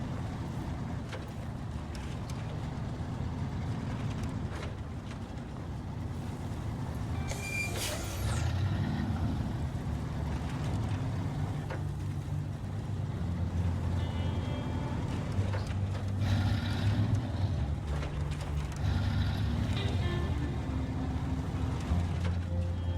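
A heavy truck engine in the off-road driving game SnowRunner rumbles low and steady throughout, with brief hissing air-brake bursts and shifting mechanical clatter over the drone.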